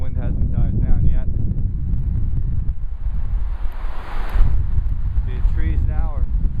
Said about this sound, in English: no, the wind hasn't died down yet